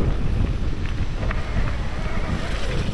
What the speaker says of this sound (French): là je suis le versant exposé au vent là